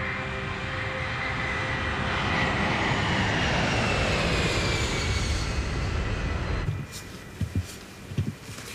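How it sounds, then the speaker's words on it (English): Airplanes roaring on a runway during takeoff, a loud broad engine rumble and whine swelling over several seconds, then cutting abruptly to a quieter cabin-like hum with a few soft knocks. "I can see the other planes are taking off."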